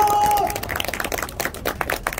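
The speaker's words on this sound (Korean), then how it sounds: "박수!" An outdoor crowd at a 2022 People Power Party rally outside Chonnam National University's back gate in Gwangju breaks into dense, continuous applause and cheering, a rough wash of many hands with a brief tone at the start.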